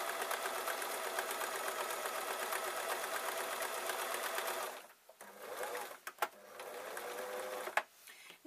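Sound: sewing machine stitching fabric

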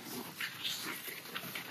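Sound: dog whimpering on winter camping trip

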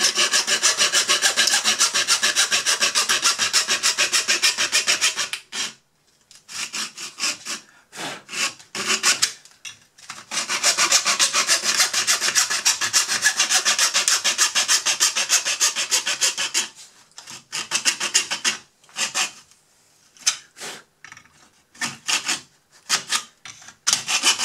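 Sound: hand sawing a U-shaped notch for an RC model

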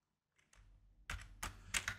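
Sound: typing on a computer keyboard

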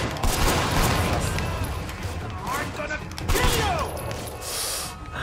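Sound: gunfire from pursuers in the video game Sleeping Dogs

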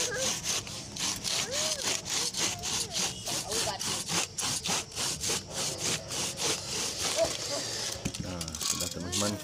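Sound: hand saw cutting wood

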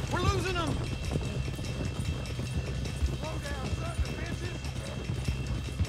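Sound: horse galloping in video game Red Dead Redemption 2

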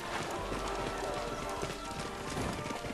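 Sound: horses and carts in the video game Valiant Hearts

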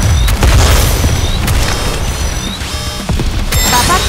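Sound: bombing explosions in the video game NIKKE

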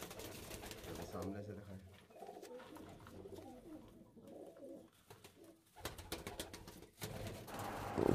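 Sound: pigeons cooing

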